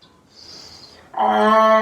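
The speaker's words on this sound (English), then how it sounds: "Last big inhale." A deep yoga inhale: a soft, airy breath drawn in close and quiet, then a louder, sustained voiced breath tone rising at the end.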